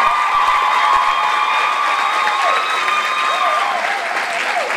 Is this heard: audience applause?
yes